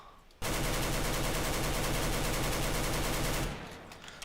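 Sustained automatic AK rifle spray in the CS:GO video game, a dense, loud unbroken burst of rapid shots lasting about three seconds before cutting off.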